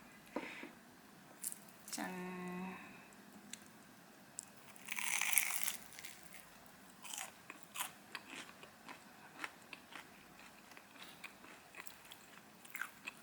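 Crisp crunching bites into fried glutinous rice doughnuts filled with sweet red bean, followed by quiet chewing and small crackles, close up and soft.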